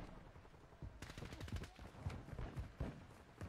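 Rapid automatic fire from the Icarus, an M4-variant rifle in Call of Duty, starting after a second as a fast burst and continuing in shorter bursts, fairly quiet overall, with a low thudding background.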